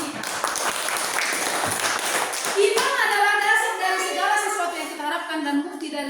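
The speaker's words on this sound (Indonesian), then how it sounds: "Ya, bagus, tepuk tangan dulu kita." An audience at an Indonesian school teachers' gathering claps in a dense, steady burst for about three seconds, then a voice speaks over the fading applause.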